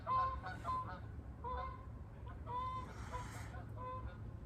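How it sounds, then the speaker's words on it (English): Geese honk repeatedly in short nasal calls, moderately distant and alone, with a low steady hum beneath them. "Here goes the geese again. Honkers."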